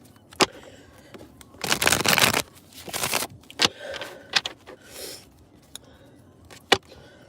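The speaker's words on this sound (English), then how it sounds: "Shuffle these cards up real wet, and then we're gonna get into it." Tarot cards being shuffled by hand in bursts of riffling and flapping, two longer rustling runs separated by sharp taps and clicks as the deck is squared, close and fairly quiet.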